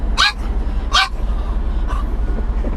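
Two short sharp dog barks close by, followed by a fainter third bark, over a steady low rumble of a truck cab on the road.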